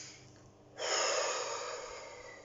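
A single deep breath drawn in sharply through the nose and mouth, close and fairly quiet, demonstrated alone without talking.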